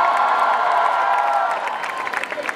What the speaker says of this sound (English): A huge round of applause, everybody.